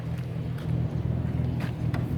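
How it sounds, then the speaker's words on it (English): A Buick 455 Regal-T V8 with a CDS Stage-1 setup and low fuel pressure idles steadily up close, a constant low rumble with a few faint clicks over it. "It's idling to warm up, heat up properly before I leave."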